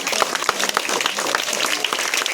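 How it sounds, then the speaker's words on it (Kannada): Loud applause from a school audience for students who donated books to the library, dense steady clapping filling the whole moment with a few sharper claps standing out. "ಒಂದು ಜೋರಾದ ಚಪ್ಪಾಳೆ"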